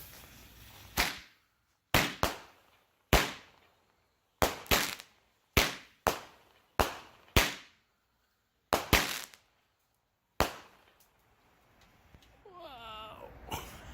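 Dominator Mighty Mini White 7 Shot firework cake firing outdoors, sharp loud cracks spaced about a second apart with echoing tails, followed by fading crackle and a faint whistle at the end.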